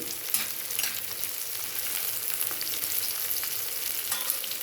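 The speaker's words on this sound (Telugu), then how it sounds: "ఎండ్రాయిలు వేగాలి కాబట్టి కొంచెం నూనె ఎక్కువ పడుద్ది ఎర్రగా వేయించేసుకుంటే చాలండి" Fish frying in plenty of oil in a pan gives a steady, soft sizzle and crackle throughout, with no voices over it.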